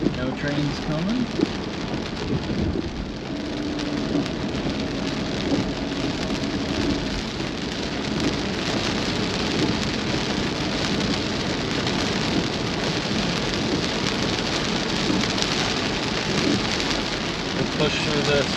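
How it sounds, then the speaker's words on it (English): Steady heavy rain drums on surfaces during a Colorado storm, with low rumbles of thunder rolling underneath, a constant dense hiss throughout. "Push through the rest of this rain"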